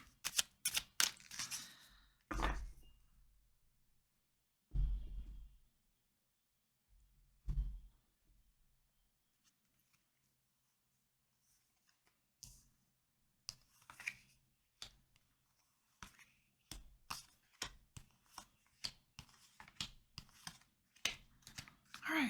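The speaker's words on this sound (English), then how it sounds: "one more shuffle here." Crisp, papery riffling bursts of tarot cards being shuffled, several rapid flurries separated by pauses, close and moderately loud, with soft sounds of handling between.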